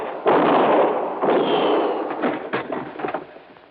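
Gunfire in a radio drama: loud, close bursts of shots and sharp bangs in quick succession, with no speech over them.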